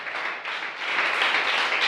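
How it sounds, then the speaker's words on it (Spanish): A church congregation applauds during a prayer service, a bright sustained burst of many hands clapping that swells louder partway through and continues without pause. "Denle el aplauso al Rey en esta hora"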